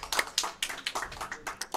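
Audience applause at a Celeste 100% speedrun event during ESA Winter 2019, a brief burst of scattered, uneven clapping from a crowd lasting under two seconds.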